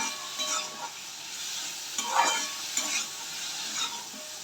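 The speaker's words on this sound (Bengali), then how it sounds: "দিয়ে এবার একটু ভাজা ভাজা করবো।" Boiled jackfruit seeds and potatoes with turmeric, chili powder, sugar and salt fry in a pan, giving a soft, quiet sizzle broken by occasional scrapes of stirring.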